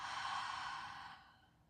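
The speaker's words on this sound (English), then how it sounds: "Open the mouth, exhale." A long, airy exhale through the open mouth during yoga breathing, a soft breathy rush that fades out over under two seconds, close and alone.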